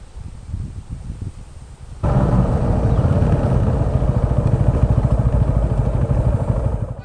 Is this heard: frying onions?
no